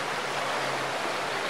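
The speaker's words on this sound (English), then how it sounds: "the water is flowing here" A meltwater stream flowing through the Finnish village of Enonkoski, a steady, full rushing of water, close and continuous, with no voices.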